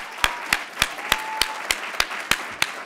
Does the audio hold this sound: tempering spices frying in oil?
no